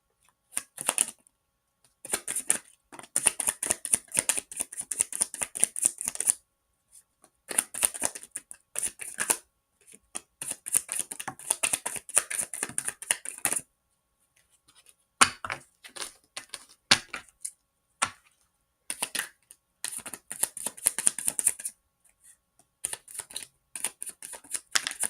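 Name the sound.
cards being shuffled for a card reading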